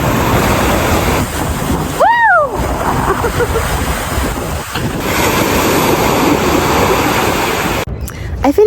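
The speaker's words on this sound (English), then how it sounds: "It's just me and the ocean" Ocean waves wash steadily onto the shore in a loud, continuous roar with wind buffeting the microphone and a short birdlike call partway through.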